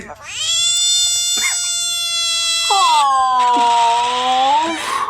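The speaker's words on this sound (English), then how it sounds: "That noise you can hear, everyone, is the frog, not the dog." A frog lets out loud, wailing, drawn-out cries after being licked by a dog, two long harmonic calls back to back, close and piercing, with no talking.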